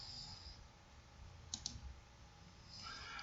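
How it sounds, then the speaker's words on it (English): Two quick, sharp mouse clicks sound close together against a faint room hiss, small and close, with no talking. "going to click the back button here"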